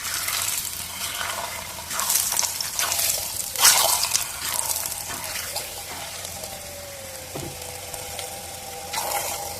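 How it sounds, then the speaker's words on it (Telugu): An ajwain leaf chapati sizzles quietly on a hot oiled pan, a soft steady crackle and hiss with a few sharper pops and clinks, close and fairly faint. "బాగా హీట్ అయిన తర్వాత చపాతీ అయితే వేసేసుకుందాం"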